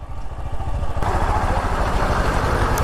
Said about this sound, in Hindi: अपनी बाइक जाएगी निकल।